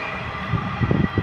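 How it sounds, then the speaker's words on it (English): A train rumbles past in the distance, a steady low roar with rising clattering swells toward the end, continuous and fairly loud with no talk. "There's another train going by."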